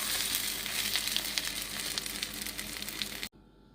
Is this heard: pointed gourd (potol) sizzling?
yes